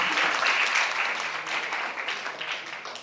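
Applause fills the hall as a lecture series on sustainable business is declared open, a dense, continuous clapping from a sizable audience, strong at first and easing gradually, with no talking over it.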